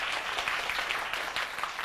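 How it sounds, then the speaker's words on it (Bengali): An audience claps at a Bengali-language contest event, the Ispahani Mirzapore Banglabid grand festival, with steady mid-level applause from a crowd that continues throughout. "সবার জন্য একটা জোরে হাততালি হয়ে যাক"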